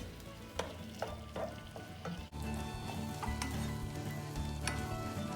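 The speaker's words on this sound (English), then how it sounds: "As you can hear, it's starting to boil already." A pot of okra stew with snail bubbling and sizzling steadily at close range as it starts to boil, with occasional clicks and light clatter over the constant hiss.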